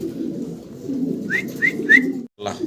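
A pair of fancy pigeons coo close by, a soft low burbling that swells and fades, with a few brief higher chirps near the end.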